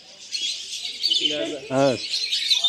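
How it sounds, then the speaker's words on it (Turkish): Birds chirp and tweet at a bird-filled street market in Qatar, with a dense wash of high twittering and a few brief lower calls, while someone speaks briefly nearby. "Kuş seslerini duyuyorsunuz."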